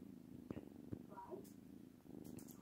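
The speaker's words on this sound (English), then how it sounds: "Do you hear her purring?" A sleeping female kitten purrs softly with a low rhythmic rumble, close by, while a person speaks quietly over it.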